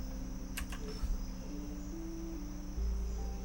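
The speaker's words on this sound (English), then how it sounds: "You can hear the crickets. You hear them crickets out there?" Crickets chirp steadily outdoors at night, a continuous high-pitched trill heard alone with a few faint clicks and no talking.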